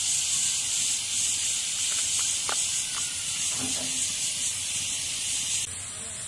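A pressure cooker on a stove vents steam while chickpeas cook for chhole, giving a steady loud hiss that fills the clip, with a brief change in tone near the end.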